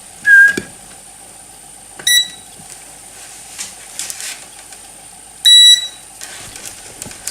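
A multimeter in continuity mode checking a Hikvision DVR gives a few short, high-pitched electronic beeps spaced seconds apart, over a faint steady hum and light handling noise.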